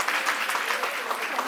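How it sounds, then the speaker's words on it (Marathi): Audience applause at a community cultural gathering, a dense steady patter of many hands clapping throughout, fairly close and loud with no pauses. "टाळ्या होऊ द्या."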